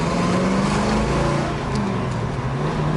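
A 1965 Ford Mustang engine running steadily, a loud low rumble with a wavering tone, heard close and continuous without any talk.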